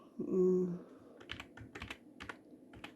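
A computer keyboard clicks as a letter is typed, with soft, irregular keystrokes following a brief tone at the start, all fairly quiet.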